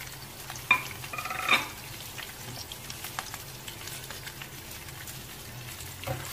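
Green chillies, curry leaves, shredded ginger and dry red chillies hit hot oil with tempering spices for wheat rava upma, giving a soft, steady sizzle, a few stirring scrapes and light clinks early on, fairly quiet throughout.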